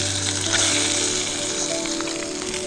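Halved trout fillets sizzle steadily in a hot pan at a camp stove, a dense, close crackle with no talk.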